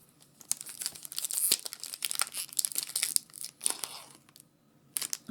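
A Magic: The Gathering booster pack's foil wrapper is torn open, with close, crisp crinkling, ripping and crumpling in uneven bursts that pause briefly before a last crinkle.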